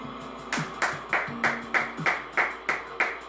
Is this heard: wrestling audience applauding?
yes